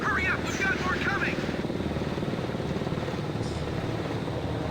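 Jet aircraft launching from a carrier flight deck in the Ace Combat 5 video game, a steady loud engine roar throughout, with a brief voice over it at the start.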